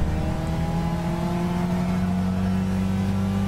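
A Pontiac racing car engine in Gran Turismo 6 hums steadily at high revs, a constant droning whine with clear harmonic tones, loud and continuous with no talking.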